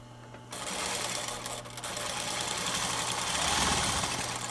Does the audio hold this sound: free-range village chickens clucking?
no